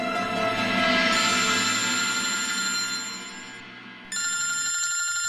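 A telephone rings continuously with a bright, steady electronic bell tone, loud and close, briefly dipping before resuming.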